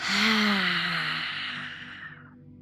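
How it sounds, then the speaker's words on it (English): A long, deep exhale pushed out through a wide-open mouth with the tongue stuck out, a breathy, slightly voiced sigh that starts strong and fades away over a couple of seconds. "as you exhale through the mouth, stick the tongue out all the way and open that mouth wide and exhale"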